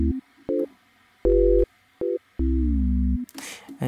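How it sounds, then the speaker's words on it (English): Galdive-style Sorbet synth chords of two or three notes, played alone in short bursts and longer held notes, with one long chord bending downward in pitch before a brief noisy tail. "it usually features like 3-note or 2-note chords that are being pitch bended downwards"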